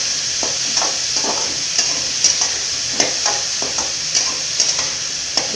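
Chopped ridge gourd frying in oil, a loud steady sizzle close by with repeated light scraping stirs at an uneven rhythm, no voices.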